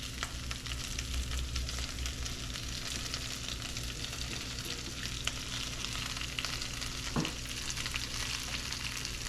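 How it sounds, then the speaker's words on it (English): Spinach wilting in a pan with shrimp and a sundried tomato cream sauce, giving a steady, close sizzle and frying hiss throughout, with a faint stir partway in and no talk. "So now we're going to add in our spinach."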